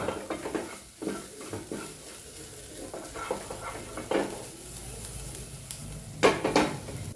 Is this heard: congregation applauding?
no